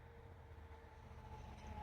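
A freight train tank car rolls past on the CN mainline in Vaughan, Ontario, giving a steady, fairly distant rumble of wheels and rails with a low continuous drone and no voices.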